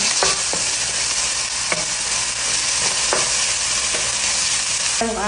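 Sliced ginger and garlic stirred in a frying pan under a steady, close sizzle, with a few distinct spatula scrapes against the pan; no voices.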